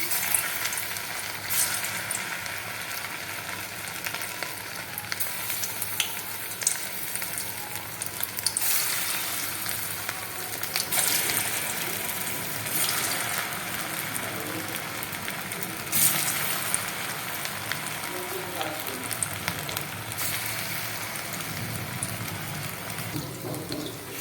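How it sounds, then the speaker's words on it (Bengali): Chicken pakora pieces frying slowly in hot white oil in a smoking kadai, a dense, continuous crackling sizzle with occasional louder bursts of spattering, close and sustained. "চিকেনগুলোকে খুব আস্তে আস্তে করে ভাজবো তাহলে চিকেনটা ভালো সেদ্ধ হবে"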